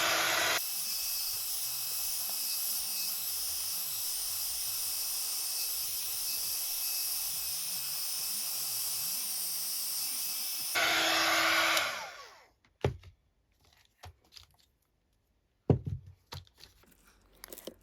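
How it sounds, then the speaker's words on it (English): A heat gun blows a steady, loud hissing roar over wet glued altered-book pages for about ten seconds, then cuts off, followed by scattered paper rustles and handling sounds. "I'm gonna dry some more with the heat gun"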